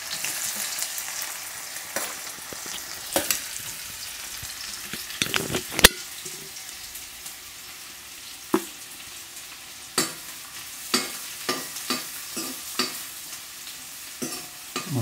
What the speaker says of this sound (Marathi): आता आपण जो कांदा बारीक चिरलेला होता हां तो आपण यामध्ये टाकून घेऊ.